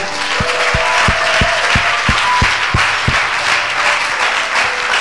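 A church congregation applauds the Lord during a French-language sermon, loud, dense clapping that begins in a steady rhythmic beat and then spreads into continuous full-room applause.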